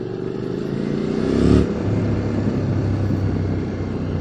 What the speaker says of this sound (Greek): Αυτή είναι η μηχανή μου.